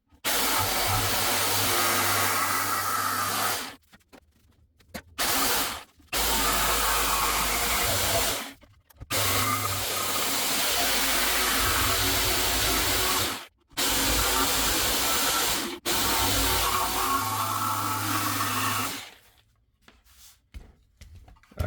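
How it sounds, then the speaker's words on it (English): A jigsaw cuts a square opening for a hidden drawer plug in loud, close, sustained bursts of buzzing, separated by several short pauses, with no one speaking. "I'm gonna use my jigsaw to basically cut the square out."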